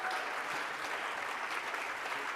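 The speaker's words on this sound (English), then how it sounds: "Another round of applause to our friends here." Audience applause at a UN food systems summit closing ceremony, a steady dense wash of clapping filling the room at moderate level with no pauses and no talk over it.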